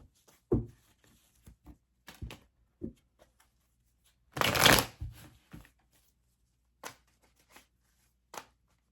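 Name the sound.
shuffling tarot cards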